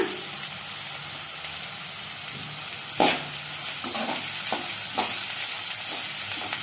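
Green chillies and curry leaves fry in oil for girmitti and mirchi bajji, a constant close sizzle with a sharp burst as something drops in, then several scraping stirs.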